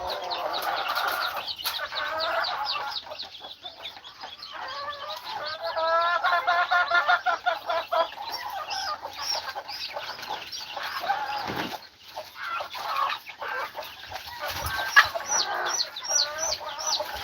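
Chickens clucking on a farm, several birds close by cackling and chattering continuously in overlapping bursts, with a few louder squawks standing out near the end.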